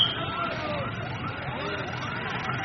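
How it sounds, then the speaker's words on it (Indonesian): An escort vehicle's wailing siren rises and falls repeatedly at a moderate distance in Pasuruan, steady and fairly faint against a low background hum. "Ada sirine"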